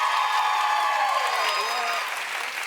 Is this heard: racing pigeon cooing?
no